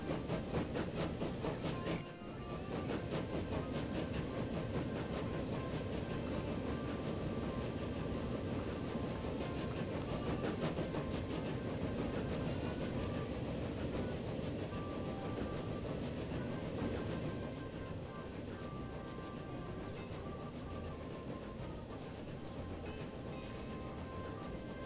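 A train running along a railway line in the game Transport Fever gives a steady rumbling rolling noise, faint and continuous, with a brief dip near the start and a slight easing later on, no talking.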